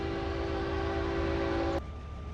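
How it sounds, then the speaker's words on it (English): A Minecraft train mod locomotive sounds a steady sustained horn tone over a rumbling rolling train, the horn cutting off abruptly near the end while the rumble continues. "Complete with bell and horn."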